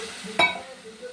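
Spices with Kashmiri chilli powder and salt sautéing in a pan: a quiet, close sizzle broken by one sharp scrape or clink of a spoon against the pan, with no speech.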